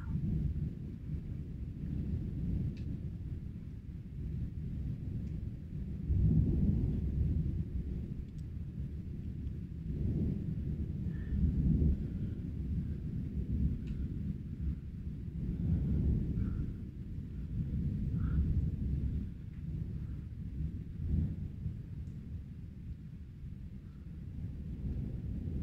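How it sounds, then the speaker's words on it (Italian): Thunder rolls on a stormy night in San Pietro, a village near Fabriano, heard as a long, steady low rumble that swells and fades in waves over roughly twenty-five seconds, with no talk. "Arriva la tempesta."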